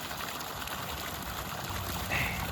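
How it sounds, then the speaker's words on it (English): Water pumped through a pipe into a bass pond, a steady rushing trickle heard from a nearby bridge, continuous and moderately loud with a brief brighter splash near the end and no talking. "They're pumping water,"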